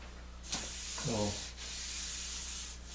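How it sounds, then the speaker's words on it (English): Wooden pub table piece being hand sanded to 220 grit, a close continuous hissing rub with a few louder swipes and scrapes over three seconds, no talking. "Sand it to 220"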